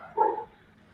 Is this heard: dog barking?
yes